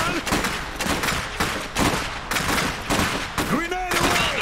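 Gunfire crackles in an Iron Harvest video game battle, with repeated bursts of shots and explosions in irregular clusters, alongside game voices and effects.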